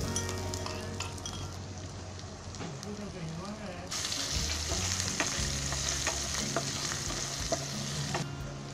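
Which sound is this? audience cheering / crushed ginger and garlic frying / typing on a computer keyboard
crushed ginger and garlic frying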